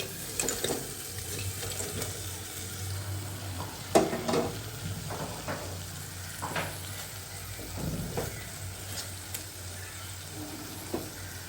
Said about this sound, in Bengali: ভাজা মাছগুলো দিয়ে দিচ্ছি।